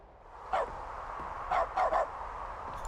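A dog barks in the video game The Stanley Parable Ultra Deluxe, one bark followed by a quick run of three more, fairly close over a low background hum.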